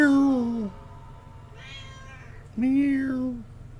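A cat in Dishonored 2 gives two distinct meows, one long and drawn out and the other after a short pause, heard close and fairly clear over a low background hum.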